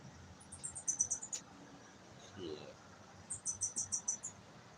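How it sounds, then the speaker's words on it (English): High, rapid chirps sound in two quick bursts, each a tight run of about eight pulses, faint and distant outdoors, with a soft low rumble in between and no talk. "That's the craziest sounding chirp."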